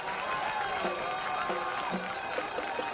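Crowd cheering and applause in the stands at a high school football home opener in Chuck Post Stadium, a soft, distant roar with scattered shouts that stays steady throughout.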